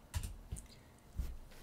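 Typing on a computer keyboard in a quiet room, heard as a few faint, scattered key clicks and taps spread across a short moment.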